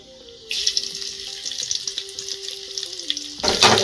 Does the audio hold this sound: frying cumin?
yes